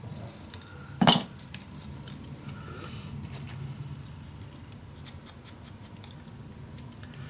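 Scissors cutting paper for a mini album: a single quick, crisp snip up close, followed by quiet rustling and handling.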